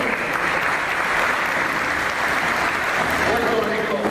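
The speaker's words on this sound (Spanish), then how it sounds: "Fuerte aplauso para todos." Audience applause at the FIA Americas Awards 2024 ceremony, a dense steady wash of clapping from a large crowd filling the hall without pause.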